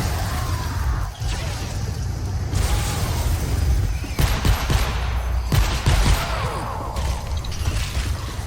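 In Fortnite Save the World, pistols fire in rapid, dense volleys of sharp shots, with bursts of other gunfire and explosions mixed among continuous game noise.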